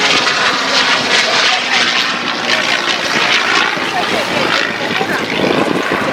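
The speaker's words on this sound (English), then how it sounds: "You hear the howl of the wing on the P-51 that we talked about a little bit earlier." A P-51 Mustang flies overhead at the Homestead Airshow, its propeller engine roaring loud and steady with a howling tone that swells and fades slightly as it passes, heard alone without talk.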